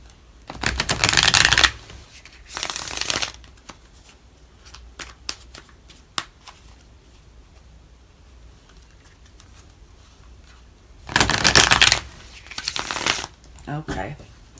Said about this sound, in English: so 2 more shuffles and you're good to go.